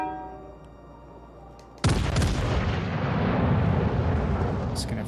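French battleship artillery in World of Warships Legends fires in one sudden, heavy boom after a quiet stretch, followed by a loud, sustained roaring rumble that slowly fades.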